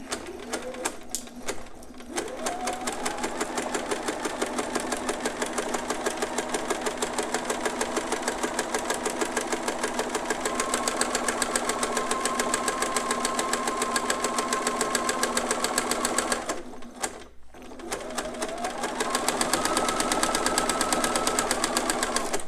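A sewing machine in need of servicing runs steadily with a rapid mechanical whir, pausing briefly twice before starting up again.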